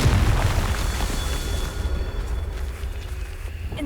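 A Confringo explosive spell goes off in Hogwarts Legacy, a loud booming blast with a heavy low-end burst at the start that decays into a rumbling tail over a few seconds.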